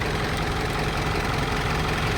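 A 2012 Mitsubishi Montero engine idling, a steady low rumble with an even mechanical chatter running continuously and close, no voices over it.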